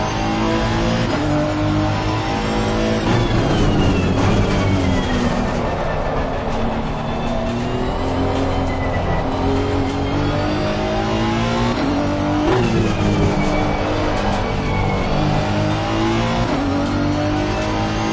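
Honda NSX GT3 Evo race car engine in Assetto Corsa Competizione, a loud, steady roar that climbs in pitch through the gears, drops sharply at about 12 seconds and then revs up again for the whole stretch, with no talk over it.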